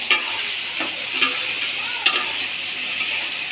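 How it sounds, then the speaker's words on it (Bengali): Potato and taro curry is stirred in a pan while turmeric, cumin and chili powder paste sizzles in hot oil, giving a steady close frying hiss broken by a few sharp scrapes and clicks of the spoon. "নাড়াচ্ছি"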